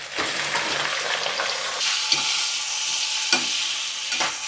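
Marinated chicken (onion, green chili, curry leaves, salt, turmeric, lemon) dropped into hot oil in a pan for chili chicken fry, giving a loud, steady broadband sizzle with a few sharp clinks of stirring, no talking.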